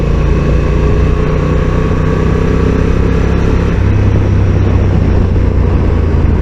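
A 2022 Honda NT1100 DCT motorcycle with a smooth twin engine, the same one used in the Africa Twin, drones steadily while being ridden, its low rumble mixed with constant wind rush for the whole stretch, with no talking.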